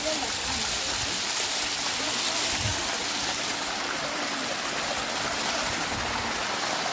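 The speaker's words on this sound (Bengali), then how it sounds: "ঝর্ণার পানি আসতেছে।" A hillside waterfall stream rushes steadily nearby, a continuous broad wash of flowing water, with faint voices talking under it now and then.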